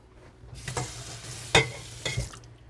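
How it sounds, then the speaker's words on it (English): Lime soup simmers in a pot on the stove, a soft bubbling sizzle with a few louder stirring scrapes and splashes close by, and no talking. "Now that the soup is simmering, I'm gonna add the lime to it."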